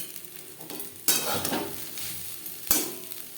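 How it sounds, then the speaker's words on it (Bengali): A spoon scrapes and turns scrambled egg bhujia through pasta in a hot pan, with a gentle sizzle underneath and two sharp scraping strokes against the metal. "ডিমের ভুজিয়া পাস্তার সাথে বেশ ভালো করে মিক্স করে দেব"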